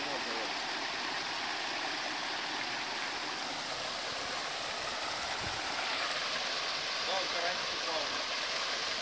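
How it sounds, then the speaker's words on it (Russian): A small waterfall in a rock garden in Pattaya, Thailand rushes steadily, a constant bright hiss of falling water filling the scene, with brief voices faintly audible beneath it. "Водопад, да? Типа, маленький такой."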